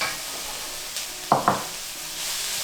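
Garlic, onion, tomato and carrots stir-frying in a pan for vegetable lumpia filling, a steady close sizzle with a couple of sharp utensil scrapes partway through, no voices.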